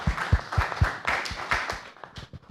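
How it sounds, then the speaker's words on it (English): Scattered applause from a small workshop audience: a handful of distinct, fairly close claps in an uneven rhythm that thins out toward the end. "Join me in giving a round of applause to Tim Trevan for facilitating us."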